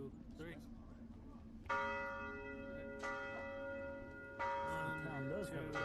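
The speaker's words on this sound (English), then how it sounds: "the solitary bell is a clear indication to those of you who know the fort well" A lone bell rings out in a medieval fort town during a VRChat roleplay, struck three times at slow, even intervals, each clear, resonant toll hanging and ringing on, with faint voices in the background.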